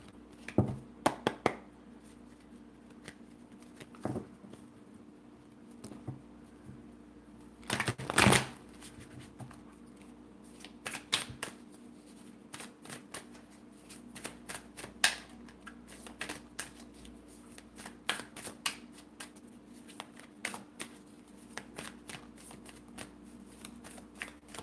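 Tarot cards shuffled by hand in a quiet room, with repeated soft riffling bursts and one louder flurry, spaced irregularly across the stretch.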